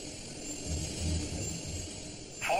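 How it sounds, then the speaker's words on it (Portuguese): Steady drone of aircraft engines captured on a cockpit voice recorder, a low continuous hum with faint higher whine, isolated from other cockpit sounds. "O técnico elimina os outros sons da cabine um a um, até que tudo o que resta é o som dos motores"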